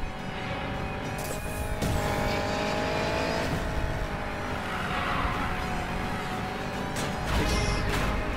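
Ford Mustang racing in Need for Speed Payback, a steady loud engine drone with tire and traffic noise throughout, a couple of brief impact bursts near the end, no talking.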